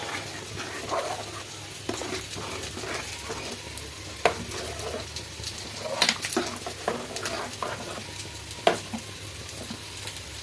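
Payasam stirred in a pot on the stove as the first coconut milk goes in, with a steady bubbling sizzle and scattered clinks of the spoon against the pot.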